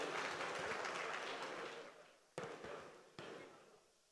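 An audience at an NRI meet-and-greet event in Hyderabad claps together as a blessing, a dense wash of applause that thins out and trails off, with a couple of brief louder claps near the end.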